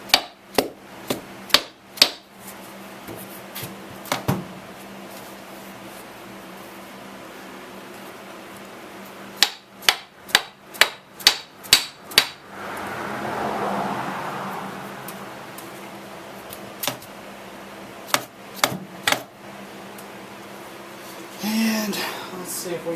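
The butt end of a hammer taps sharply against the valve cover of a 2001 Dodge Dakota in quick clustered bursts of knocks with pauses between, over a faint background hum and some brief talking.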